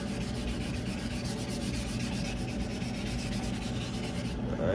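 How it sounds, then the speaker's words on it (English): A car spoiler from a 1995 Honda Civic coupe is wet sanded by hand, a close, steady rubbing hiss with a continuous scratchy texture throughout. "We're still wet sanding it, so just to smooth it out, get some finer scratches in."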